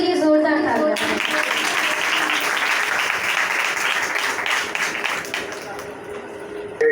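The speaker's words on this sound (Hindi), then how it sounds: "Let's put our hands together for Jesus." Applause from a congregation at a kids' Bible camp service, steady and dense for about seven seconds, with a voice speaking over the clapping at the start.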